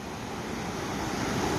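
The swollen Gambhir river near Sawai Madhopur rushing in flood, a dense, steady roar of churning water that stays loud and unbroken, with no speech.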